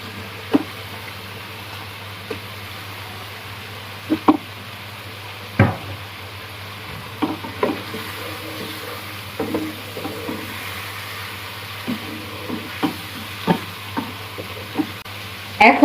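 Prawns, cut and washed, fry in a hot pan with chili and turmeric powder, the sizzle running throughout while a spoon stirs and knocks against the pan now and then.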